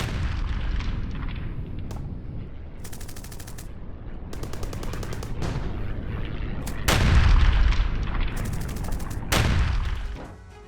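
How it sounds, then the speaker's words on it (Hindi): Russian artillery shelling Ukrainian positions: rapid heavy gunfire and booming blasts fire in repeated bursts, some distant, some close and loud, with a swelling roar of explosions near the middle and no talking. "यूक्रेनी पोजीशन पर रूस का तोप से हमला।"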